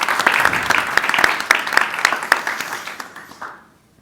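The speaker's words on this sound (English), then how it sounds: "Please, a round of applause." Audience applause at a panel discussion, dense clapping from a sizeable crowd at close range that swells briefly, then thins and dies away into near silence after about three and a half seconds.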